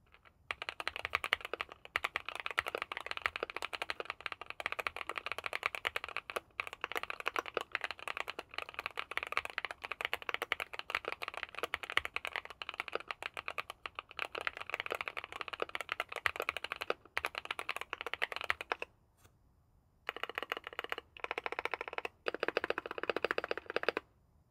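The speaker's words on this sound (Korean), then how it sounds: "타건음을 들어보세요." Steady, rapid typing on a CIDOO V75 Pro mechanical keyboard with linear switches and PBT keycaps, smooth, muted keystrokes, continuous with a few brief pauses, close and fairly quiet.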